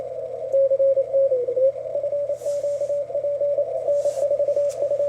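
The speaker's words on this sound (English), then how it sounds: "It's calling CQ Florida QSO Party." An amateur radio station calls CQ for the Florida QSO Party in Morse code, heard through a narrow 250 Hz filter as a steady single-pitched tone keyed in rapid dots and dashes over a low hum and faint static.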